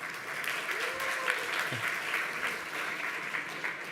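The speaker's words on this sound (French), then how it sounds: "on peut les applaudir, bravo" Steady applause from a small group, sustained clapping at an even level for a few seconds.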